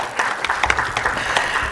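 At a diabetes and endocrinology research conference, an audience applauds Mr. Sridhar Babuji, with individual sharp claps standing out from a moderate, uneven patter of hands.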